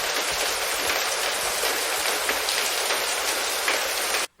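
Steady, dense rain pours down in a continuous close hiss of drops hitting a surface, with no voices, and stops abruptly at the very end.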